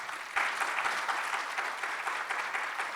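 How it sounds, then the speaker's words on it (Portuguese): An audience at a national road conservation meeting breaks into steady applause, dense even clapping sustained for the whole stretch with no voices over it. "Vamos recebê-lo com uma salva de palmas"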